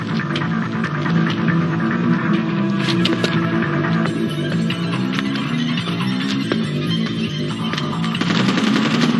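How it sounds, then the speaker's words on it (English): Scattered bursts of distant gunfire in Tom Clancy's Splinter Cell Chaos Theory crack over a loud, steady droning hum that fills the background throughout. "I'm hearing gunfire down there, Fisher."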